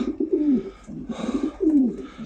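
Racing pigeons coo close by, soft throaty calls repeating with falling pitch, over faint background noise.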